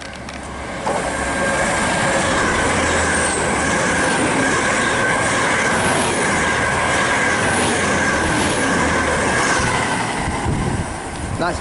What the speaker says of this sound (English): passing through now is an IET from London Paddington to Swansea